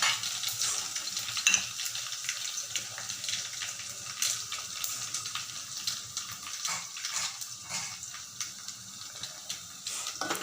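Dry red chillies and unpeeled garlic frying in a pan of hot oil for tomato rasam give a steady, close sizzle with light crackling throughout, and no one speaks.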